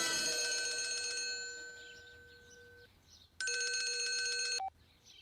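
A telephone rings with a bright electronic bell tone that decays, pauses, then sounds again for another ring before cutting off abruptly, heard clearly on its own indoors.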